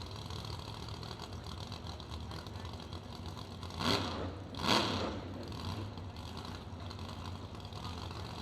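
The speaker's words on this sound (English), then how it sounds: "a little couple whaps of the throttle, clearing out that machine" Two sharp throttle blips from a drag racing car's engine at the March Meet, rising out of a steady idle with a short pause between them, loud and close with no talk over them.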